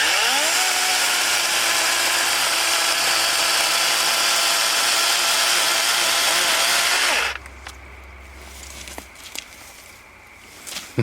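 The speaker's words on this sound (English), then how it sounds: "this little chainsaw is going to work out great for me" A small chainsaw cutting through a big tree trunk, its engine screaming loud and steady at high revs for about seven seconds before cutting off, leaving quiet outdoor ambience with faint clunks.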